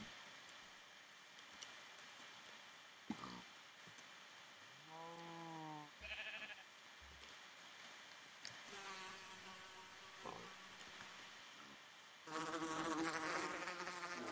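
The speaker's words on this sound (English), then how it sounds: "I'm not going to touch that bee." A bee in modded Minecraft buzzes with a faint steady insect drone, joined by a sheep bleating and other scattered game sounds, ending in a louder burst of noise.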